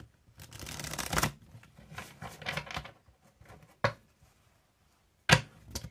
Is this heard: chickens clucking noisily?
no